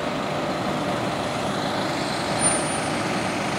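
A heavy push truck escorting a hydrocracker megaload as it turns onto U.S. Highway 12 in Lewiston gives a steady, broad engine and road rumble at moderate distance, continuous and unbroken, with no voices.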